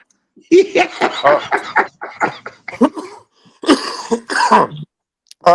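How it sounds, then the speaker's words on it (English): Someone coughs and clears their throat in a series of harsh bursts, with a few laughing breaths mixed in, close to the microphone. "that got me coughing"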